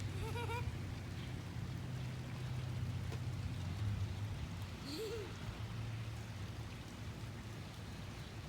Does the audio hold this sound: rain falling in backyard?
yes